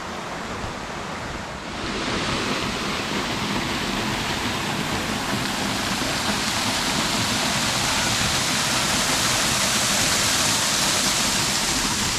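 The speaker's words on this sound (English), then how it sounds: "we made it to our first waterfall right here" Steady, dense roar of a waterfall seen from the top during a family bushwhacking hike, swelling louder after the first two seconds and then holding as a constant broadband rush with no talk.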